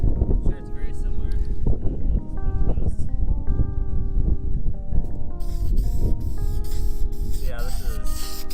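Car carpet being spray painted red, with bursts of hissing aerosol spray running under talk and tonal background sounds.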